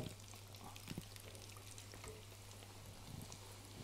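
Bugnes and pets de nonne dough frying in hot oil, a steady soft sizzle and bubbling with a low hum beneath, fairly faint and continuous with a few small pops.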